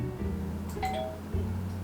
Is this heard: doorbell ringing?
yes